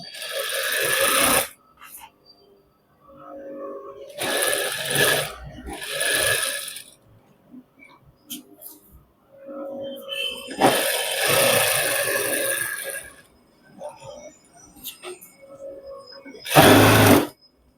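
A sewing machine stitches a shirt in several separate bursts, each running a second or two, with quiet pauses between them. The longest burst falls near the middle and a short loud one comes close to the end.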